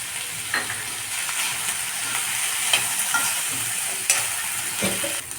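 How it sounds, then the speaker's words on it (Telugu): Grated coconut stirred in a hot pan for chutney, with a steady close sizzle and scattered soft scrapes of a spoon across the pan. "కొబ్బరి వేసి ఒకసారి కలపండి"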